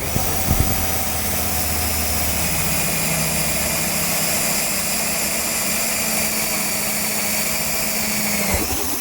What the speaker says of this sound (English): we're going to drill these holes with the special drill bit that the system comes with